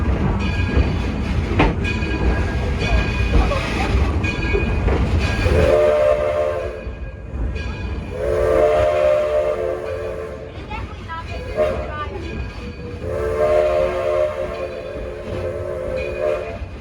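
Edison steam locomotive at Greenfield Village, built from parts of three older engines, rumbling and clattering along with several tonal whistle blasts, heard close with people talking over it.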